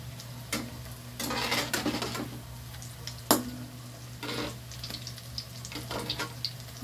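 Fish frying in a pan of hot oil, with steady sizzling and sputtering broken by bursts of louder crackle and a sharp pop, over a constant low hum, no talking.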